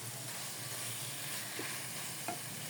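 Taro leaves (kochu shak) frying and being stirred in a pan over low to medium heat, a steady close sizzle and hiss running throughout with a couple of faint spatula scrapes, no voices.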